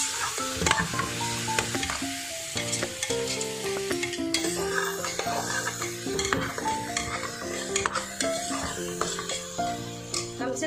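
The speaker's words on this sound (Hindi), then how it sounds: "कम से कम 15 मिनट हम लहसुन, अदरक और हरी मिर्च के पेस्ट को भी भूनते रहेंगे" A paste of garlic, ginger and green chili fries with onions in a pan, a steady sizzle and occasional stirring scrapes. Loud tonal music plays over it throughout.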